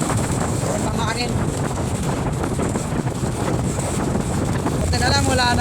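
Strong wind blows outdoors in a village under overcast skies, a loud continuous roaring rush buffeting the microphone, with a couple of faint distant tonal sounds rising through it.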